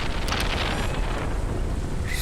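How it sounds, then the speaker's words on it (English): Thunder in the Stardew Valley farming game, a low rumbling roll mixed with rain-like hiss and a broadband wash of noise, steady throughout the short stretch. "Thunder and lightning."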